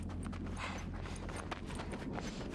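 Horse hooves clip-clop steadily in a video game, a close, continuous rhythmic clatter over a low rumbling game soundscape.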